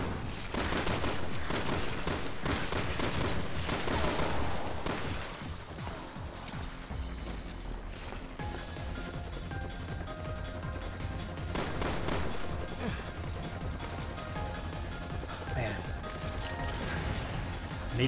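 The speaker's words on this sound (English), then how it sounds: "Load up the shotgun." Shotgun fire in the video game Resident Evil 6 Mercenaries mode, repeated sharp blasts in quick bursts amid clanking mechanisms, crashes and game music, with a player talking over it.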